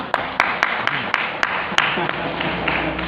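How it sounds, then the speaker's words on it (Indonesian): A church congregation claps during a sermon. The sharp, rhythmic handclaps are fairly close, over a murmur of voices, for a few seconds. "Tepuk tangan dulu lah."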